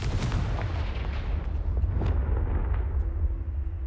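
A Confringo blasting spell goes off in the Hogwarts Legacy video game as a loud, continuous rumbling explosive burst with crackling blasts layered on top, heard alone without speech.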